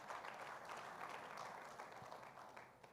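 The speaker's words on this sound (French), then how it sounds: "Applaudissez-vous encore." Faint, distant-sounding applause from an evening audience at a Haitian gathering on women's place in society, a continuous soft patter of many hands that tapers off near the end.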